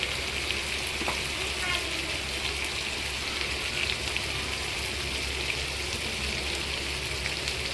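Spices for fish biryani fry in a pan, including coriander powder, kasuri methi and poppy seed powder, giving off a steady, even sizzle with occasional faint clinks.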